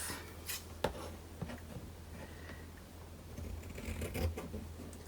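Scissors cut through a piece of fabric in quiet, scattered snips and rustles, with a few sharper clicks against a low background hum and no talking.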